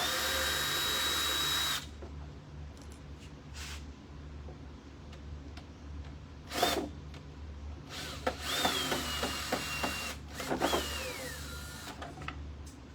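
Power drill driving and backing out screws on a flip-top sewing table, a long whir followed by short bursts of motor whine and repeated clicks from the clutch, heard up close.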